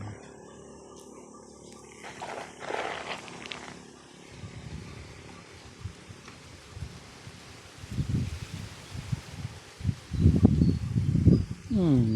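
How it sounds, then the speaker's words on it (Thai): Strong gusty wind rustles and shakes a clump of bamboo leaves, swelling louder in bursts toward the end, with faint background noise throughout. "ลมแรงจริงๆนะครับ"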